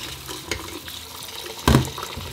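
Rice gets rinsed under a running kitchen tap, a steady wash of water with a splashy stir of grains and one loud close splash near the end.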